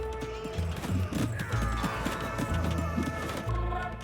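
Horse hooves from mounted units in Age of Empires 2, clip-clopping in rapid, uneven bursts amid game sound effects and battle noise.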